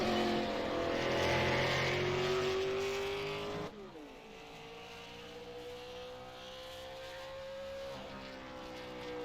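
A super late model race car runs laps at Milwaukee, its engine a loud steady roar with a pitch that sweeps down, then climbs again as it circles the track.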